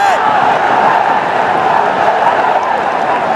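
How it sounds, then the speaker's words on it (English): A large cricket stadium crowd roars in a steady, loud, unbroken wash of cheering and chatter during a match against Afghanistan, with no single voice standing out. "Let's listen to the crowd."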